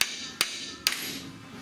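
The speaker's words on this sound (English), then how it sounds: "I'm going to go ahead and hammer both joints loose." Hammer blows on a vehicle's suspension ball joints to knock them loose from the spindle: three sharp metallic strikes spaced about half a second apart, close and ringing, with no talking.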